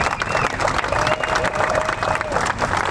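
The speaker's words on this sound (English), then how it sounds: "I think one group that needs a round of applause are our honorary pin holders" A golf crowd at a FedExCup Playoffs event gives a round of applause, dense clapping mixed with some cheering and crowd noise, steady and fairly close.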